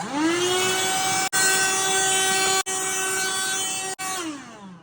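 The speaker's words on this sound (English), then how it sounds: "Okay, got all the holes drilled out." A power drill bores holes through the gel coat of a BassCat Puma STS bass boat hull for a bow mount install, its steady motor whine spinning up, holding pitch and briefly stopping twice between bursts.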